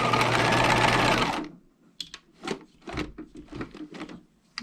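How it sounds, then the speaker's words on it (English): A sewing machine back stitching a removable collar runs in a steady, loud whir for over a second and then stops. A run of close, quieter clicks and knocks follows as the fabric is handled and pivoted. "We're going to start on one short end and back stitch. And you're going to pivot at each corner."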